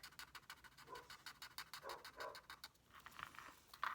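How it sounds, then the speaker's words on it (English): Several dogs bark and pant indoors, the sounds fairly faint and repeated in short uneven bursts across the whole stretch with no talking. "My dogs went in, that's why they're barking if you can hear them."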